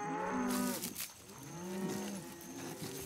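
Two long, low moos from a cow, one after another, fairly close and clear.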